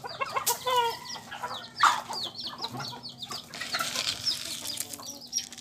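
Chickens cluck and squawk repeatedly at close range in a Filipino backyard flock being fed, with a rooster-like call mixed in among overlapping busy bird sounds.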